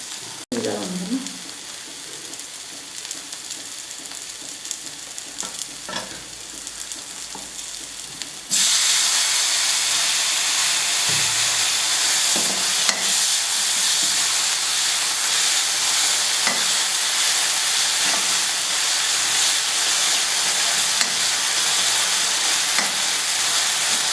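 Tomatoes added to ginger garlic paste in hot oil for Nepali dal fry: a sudden loud, steady sizzle and hiss that keeps going, close up, after a quieter stretch of frying with faint clinks.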